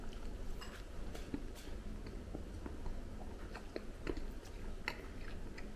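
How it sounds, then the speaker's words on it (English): Someone takes a bite of a whole wheat dinner roll and chews, soft crunchy chewing sounds scattered over a steady background hiss, close but fairly quiet, with no talking. "Let's have a quick bite of our yummy whole wheat dinner rolls."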